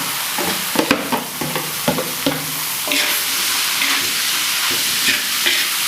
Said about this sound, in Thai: นี่ผมก็จะใส่ สิ่งที่ผมจะผัดลงไปละ เห็ดนะครับ